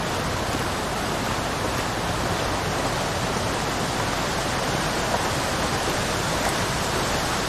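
Steady, dense rush of a waterfall in a river valley near an ice cave, a loud continuous roar filling the scene with no voices.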